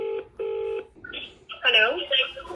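Telephone keypad tones beep twice in quick succession as a call is placed from a home phone, followed by people talking close by.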